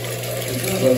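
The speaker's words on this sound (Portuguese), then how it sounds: "E não vou soltar no aquário, vou pegar aqui. Vou soltar nesse aquário aqui, ó, que não tem nada. Vou soltar a água dela." Water pours steadily from a container into an empty aquarium, a continuous close splashing flow that grows slightly louder toward the end.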